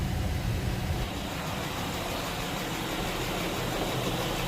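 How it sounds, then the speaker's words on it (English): A Honda Pilot 3.5L engine holds a steady RPM during a coolant purge, giving a constant, loud, even engine rumble with no change across the stretch. "All right, hold the RPM for about 3 minutes again, and this is the last cycle."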